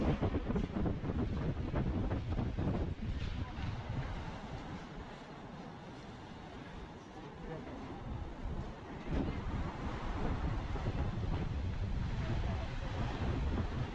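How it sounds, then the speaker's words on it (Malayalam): Strong wind buffets the microphone in gusts, rising and easing, at the Dona Paula viewpoint in Goa above the Arabian Sea, with a faint wash of surf somewhere in the background. "ഒരു നല്ല കാറ്റുണ്ട്,"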